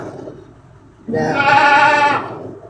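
A goat on a farm gives one loud, close bleat lasting about a second, preceded by a short stretch of quiet background rustle.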